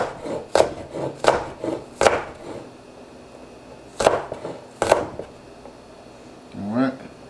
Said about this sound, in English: So we just want to chop these up.